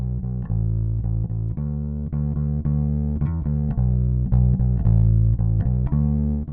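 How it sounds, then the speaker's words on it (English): Real electric bass guitar recorded directly into an audio interface, playing a steady, continuous line of plucked notes with a loud, sustained low tone and no other instruments or voices. "I'd really like to record a real bass."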